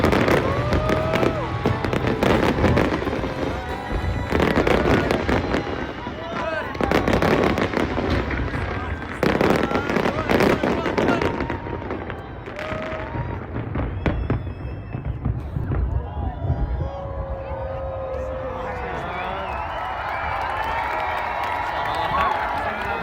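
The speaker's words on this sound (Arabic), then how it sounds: "في النهاية استمرت الألعاب النارية ل10 دقائق متواصلة" New Year's fireworks display bursting in rapid, repeated loud booms and crackles for the whole stretch, with a crowd cheering and voices talking underneath.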